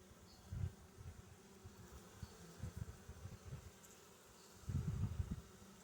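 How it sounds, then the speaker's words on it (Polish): Low buzzing of young honeybees at an open hive comes and goes in short bursts, a louder swell near the end, fairly faint against a quiet background. "sporo młodej pszczoły."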